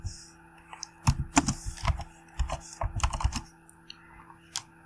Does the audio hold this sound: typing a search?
yes